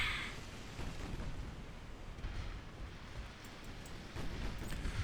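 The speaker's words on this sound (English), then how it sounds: "Torpedo detonation on the enemy vessel." Torpedo detonating on an enemy warship in the naval strategy game Ultimate Admiral Dreadnoughts, a deep rumbling boom with sustained low roar and crackling debris, fairly loud with no talk.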